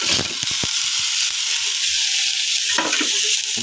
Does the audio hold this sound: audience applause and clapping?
no